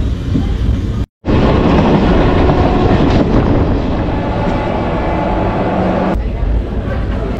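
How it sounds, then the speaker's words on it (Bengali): A second train runs alongside on the adjacent track near Santragachi Junction, a loud, steady rumble and rush that fills the clip after a brief cut, with a sharp shift near the end. "পাশাপাশি আরও একটা ট্রেন যাচ্ছে, এই দেখো।"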